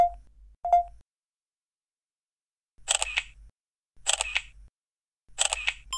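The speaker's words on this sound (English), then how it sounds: "Finish the shot at any time by pressing the shutter button again." Samsung Galaxy Camera during a panorama shot: two faint electronic beeps, then three crisp shutter clicks at roughly one-second intervals, close and clear with silence between.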